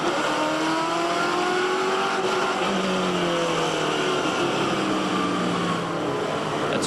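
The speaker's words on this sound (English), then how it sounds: "Oh, bit of the old axle tramp happening." Touring car at a Bathurst race start with its rear axle tramping, a loud onboard engine roar with rising and falling revs and a juddering, hopping undertone as the car launches.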